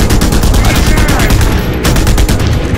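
Rapid gunfire from a two-handed weapon in the video game Just Cause 2 plays as a dense, continuous loud barrage of shots, with a voice speaking faintly underneath.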